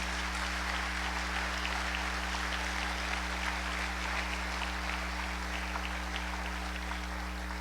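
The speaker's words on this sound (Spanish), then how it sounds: "dale fuerte aplauso al Señor" A church congregation claps in praise to the Lord during a sermon, a steady, dense wash of applause holding evenly throughout over a constant low hum.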